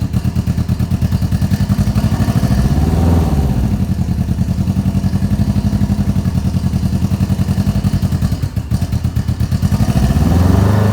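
A street motorcycle engine struggling in cold winter air, running with a rough, steady loud putter that dips and surges as if about to stall, briefly faltering near the end before picking back up.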